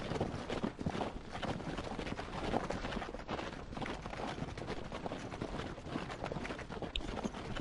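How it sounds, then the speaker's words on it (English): Horses trot along in Gettysburg: Scourge of War, a steady clip-clop of hooves under a dense, continuous wash of game ambience that stays at an even, moderate level throughout. "You can see they're just trotting on their horses"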